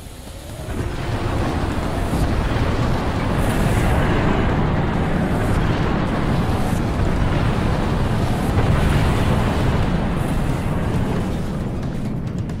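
An orbital MAC cannon strike from the Spirit of Fire lands in Halo Wars, a sustained heavy rumbling blast with a roaring low-end wash that holds loud and steady for about twelve seconds, with no speech.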